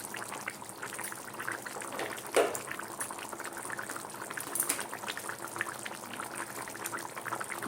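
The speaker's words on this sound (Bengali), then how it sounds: "এই যে ফুটছে, এইবারে ওপর থেকে দেবো গরম মশলাটা।" A potato curry with curd bubbles in a pan, a soft, steady simmering crackle with faint pops and a brief louder clink, low in level and unaccompanied by talk.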